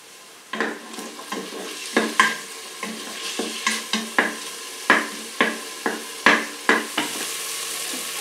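Pancetta frying in an Instant Pot EVO, with a soft sizzle under regular sharp scrapes and taps of a utensil stirring against the pot, about a dozen strokes, close and clear.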